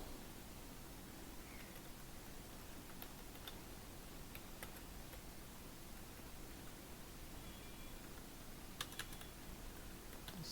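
Keys on a computer keyboard are tapped while C code is written, faint scattered clicks and taps over a steady background hiss, with no talking.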